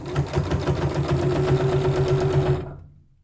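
A sewing machine stitches a quilt strip in a fast, steady mechanical hum with a regular needle rhythm, close up and alone, stopping abruptly near the end.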